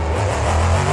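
A monster truck engine in BeamNG.drive roars loud and close in a steady, deep rev at Stafford Motor Speedway, with heavy low-end rumble held throughout.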